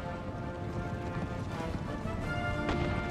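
Cavalry horses of a full-strength regiment galloping in the Empire Total War video game: a dense, continuous drumming of many hooves at a steady level, mid-distance, with a sharp impact near the end and no talk.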